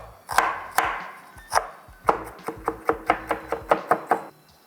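A knife finely dices onion on a board in a run of crisp, close chopping knocks, slow at first and then quickening into a fairly even rhythm, with no talking.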